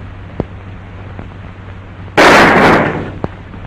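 One sharp gunshot rings out in a 1942 western film, a loud, close, broadband crack that decays within about a second, with faint clicks and a quiet room hum around it.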